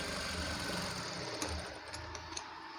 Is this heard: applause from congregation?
no